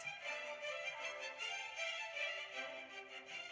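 Violins play the fugue subject from Britten's Young Person's Guide to the Orchestra, a bright, quick string line carried steadily by a fairly faint orchestra, no voices.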